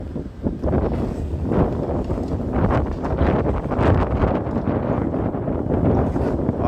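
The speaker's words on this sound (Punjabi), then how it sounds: "ਹਵਾ ਚੱਲੀ ਜਾਂਦੀ ਆ" Gusty wind buffets the microphone in a loud, continuous rumble with uneven surges, outdoors in winter snow in Sault Ste. Marie, Canada, without any talking.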